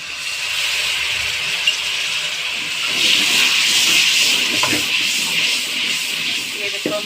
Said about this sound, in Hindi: इसमें थोड़ा सा पानी डालकर इसकी अच्छे से भुनाई करेंगे।